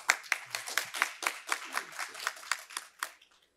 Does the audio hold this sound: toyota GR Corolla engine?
no